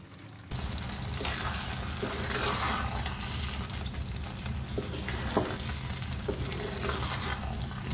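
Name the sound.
matar paneer cooking covered on medium flame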